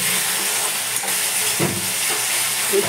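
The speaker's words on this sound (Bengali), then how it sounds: "ভালো করে কষিয়ে নেব" Fish curry masala with tomato sauce sautéing in a pan, a steady close sizzle with faint stirring scrapes over continuous frying hiss.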